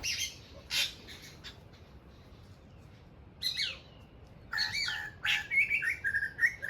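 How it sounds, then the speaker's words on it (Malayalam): Birds chirp and tweet in short, bright bursts, some trilling, with quiet gaps between calls against a soft background. "അവറ്റകൾ ചിലക്കുന്ന കേൾക്കാൻ തന്നെ എന്താ രസമെന്നോ"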